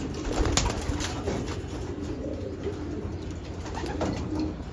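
Racing pigeons in a home loft cooing, a low throaty murmur repeating over a steady background hiss, with a brief flutter early on; close and moderately loud, no voices.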